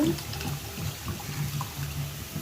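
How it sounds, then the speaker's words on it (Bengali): Water is poured from a tap into cooked, mashed lentils in a pot, a short, steady splashing stream heard up close with no talking. "একটু পানি দিব।"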